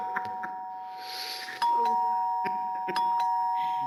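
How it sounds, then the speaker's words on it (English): A doorbell chimes with a sustained ringing tone that holds steadily, mixed with a few sharp clicks and some soft background noise. "Ring my bell, ding dong."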